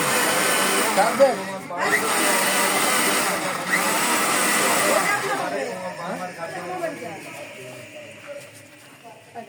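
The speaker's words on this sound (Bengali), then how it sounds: "আপনারা দেখেন মরিচ গুঁড়াটা হচ্ছে" An electric grinder whirs loudly as it grinds chili into powder, a steady motor whine that later drops lower and rougher, with a voice talking over it.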